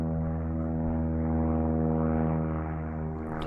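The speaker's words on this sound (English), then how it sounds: "Got a float plane flying by checking me out." A propeller float plane flies by outdoors, its steady droning engine hum loud and sustained throughout, rising slightly as it passes, with no talking.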